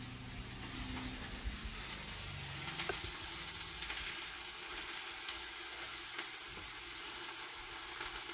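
Greens with onions simmer and sizzle in a pot on the stove as a spoon stirs through them, with a steady hiss and occasional soft scrapes and clinks and no talking.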